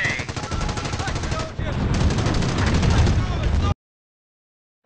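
Engineers come under sustained machine-gun fire in the WWII strategy game Company of Heroes, a loud, dense rattle of rapid shots over a low battlefield rumble. After a brief dip it continues, then cuts off abruptly.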